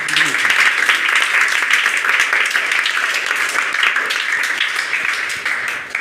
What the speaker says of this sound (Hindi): तालियों के साथ स्वागत करेंगे